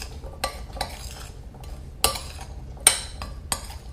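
Chickpeas are stirred with dried herbs and spices in a bowl, giving soft rustling broken by a few sharp spoon clinks against the sides, close and fairly quiet with no voices.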